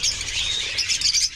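African lovebirds chirp in a dense, continuous twittering chorus, bright and fairly close, with overlapping calls and no talking.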